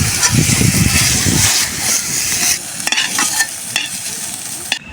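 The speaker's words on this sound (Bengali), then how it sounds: "আলুগুলোকেও হালকা করে ভেজে নেব।" Salted potatoes fry lightly in oil in a pan, loud and close, with a dense crackling sizzle and vigorous stirring at first, then settling to a quieter hiss punctuated by a few sharp spatula clicks.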